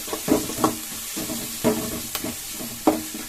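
A spice and onion mixture for aloo kachori filling being stirred in a frying pan: a soft sizzle under several distinct scraping strokes of a spoon, close up.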